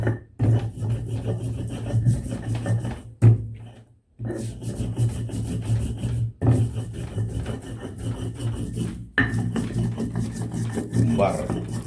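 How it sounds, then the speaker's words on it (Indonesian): Spices being ground by hand for beef rendang, a steady rough rasping and rubbing repeated in long close strokes with brief pauses between passes. "Ini saya harus giling halus."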